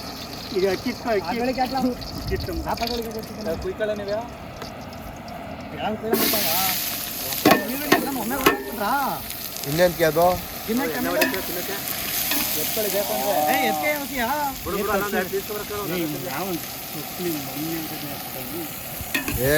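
Chicken sizzles and is stirred in hot oil at an outdoor party cook-up, a steady frying hiss with scraping stirs running throughout, while several people talk over it.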